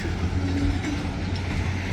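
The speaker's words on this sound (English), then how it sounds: "they got to shove their train all the way back" A freight train at a rural railroad crossing near a wood yard is shoved back by its locomotives, giving a steady, close, low rumble with faint rolling rail noise and no voices.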